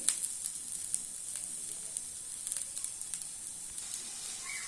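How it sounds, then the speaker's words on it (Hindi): A veg burger patty (tikki) cooking on a hot tawa at medium heat gives a faint, steady sizzle with small scattered pops, heard close and alone without any talking. "उसी का हम इसी साइज का टिक्की बनाएंगे। और तवे पर सेक लेंगे।"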